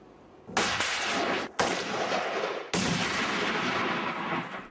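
Weapons fire at a militant training camp in a rugged outdoor setting, heard as three loud, sustained blasts of heavy firing with sharp onsets and brief gaps between them, close and harsh with nobody speaking.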